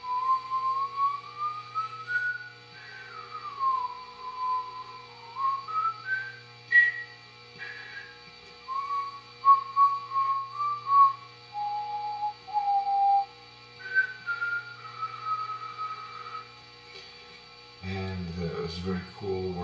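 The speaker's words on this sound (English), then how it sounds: "if I make like a whistling sound" A person whistles a wandering melody of sliding and held notes, fairly close and clear over a low steady hum, ending with a burst of noisy handling sound.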